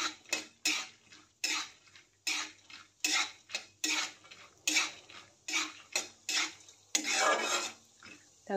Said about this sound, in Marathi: शेंगदाणे थोडे भाजलेले आहेत, थोडे मऊ पडलेले आहेत, अजून थोडंसं भाजून घेऊया